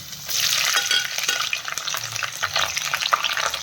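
Carrot, capsicum and brinjal are stir-fried together in a pan, giving a close, steady sizzle with scraping stirs and crackling bursts, loud and alone without talk.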